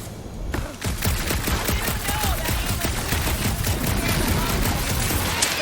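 Rapid, dense gunfire from a Guardians of the Galaxy video game, a steady fusillade of shots running nearly the whole time at close, loud level with no talking.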